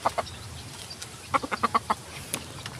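A rooster kept with three hens on a provincial backyard farm gives a quick run of sharp, close clucks, a brief burst followed by a few scattered calls.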